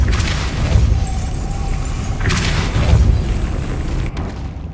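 Hogwarts Legacy Depulso spell effect, a couple of booming magical blasts with bursts of crackle, repeated twice over a rumbling background before cutting off.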